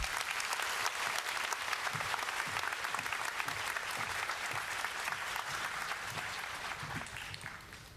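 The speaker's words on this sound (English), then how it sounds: "Let's give a big round of applause." An audience at a nursing pinning ceremony breaks into steady, dense applause, many hands clapping continuously for the full stretch and tapering slightly toward the end.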